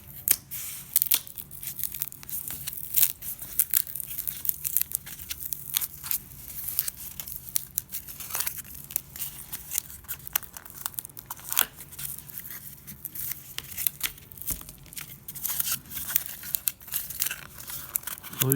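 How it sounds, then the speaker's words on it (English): Scored cardboard pieces are folded by hand along their lines, giving continuous close crinkling, creasing and crackling with irregular sharp snaps throughout, no voices. "Now you can fold the cardboard on the lines inward, so the scoring will be on the inside."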